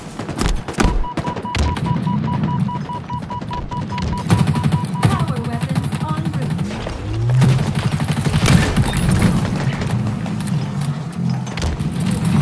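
Sustained gunfire in Halo Infinite, a loud run of rapid shots with booms and weapon effects, continuing throughout over game sounds.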